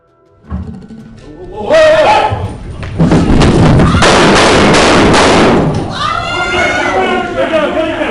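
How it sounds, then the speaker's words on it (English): Loud, chaotic bursts of gunfire and heavy thuds erupt inside a courtroom as a U.S. Marshal shoots an attacker, with shouting and commotion throughout. "The Salt Lake City John Wick was shot multiple times"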